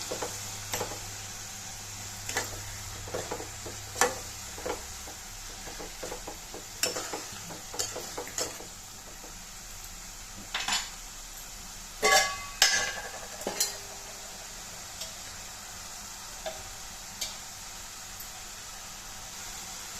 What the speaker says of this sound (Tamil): ஒரு கொத்து கருவேப்பிலையும் சேர்த்துக்கலாம் சேர்த்துட்டு நல்லா எண்ணெயிலே கலந்து விட்டுக்கலாம்